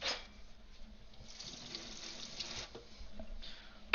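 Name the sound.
water running from a tap while rinsing a knife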